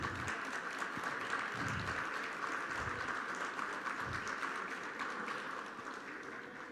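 An outdoor crowd at a seaside food festival in Putú applauds mayor Fabián Pérez Herrera, a steady, somewhat distant patter of many hands with low thumps underneath, fading a little toward the end.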